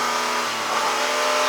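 An 1980s Buick Grand National turbo engine revs hard up close, a loud sustained rising roar.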